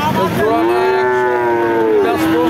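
A Friesian cross heifer calf at a cattle market lets out one long, loud, close moo that holds steady for about two seconds, with no voices over it.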